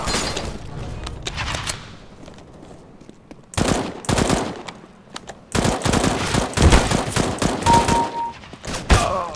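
Rapid bursts of gunfire from the video game Counter-Strike: GO, loud and sharp, arriving in dense clusters with short gaps between volleys.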